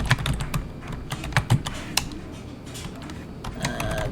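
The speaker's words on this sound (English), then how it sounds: "let's just pretend we're gonna type something. Type a couple lines here." Typing on a computer keyboard while writing a few lines in a word processor, with quick close clusters of clicking keystrokes broken by short pauses, alone and fairly quiet.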